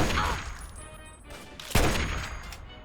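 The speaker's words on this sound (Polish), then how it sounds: "ostatni strzał" Gunfire in the video game Fallout 3: an earlier burst, then one sharp, loud shot a moment later with a ringing decay, heard alone without voices.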